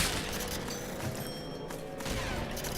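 Gunfire from a weapon in the Cult of the Wind video game, a dense burst of shots and impacts filling the short clip without a clear gap.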